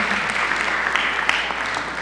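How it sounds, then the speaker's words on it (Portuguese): A church congregation breaks into steady, dense applause for a family during an evening service, sustained clapping filling the hall throughout without speech. "Uma grande salva de palmas para essa família de Deus, vencedora"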